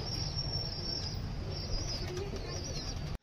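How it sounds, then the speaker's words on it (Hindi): Pigeons crowding back into their loft after feeding, a dense burst of rustling, flapping wings over steady background noise, with faint coos mixed in before it cuts off abruptly. "दोस्तों अपने सारे कबूतर अंदर चले गए"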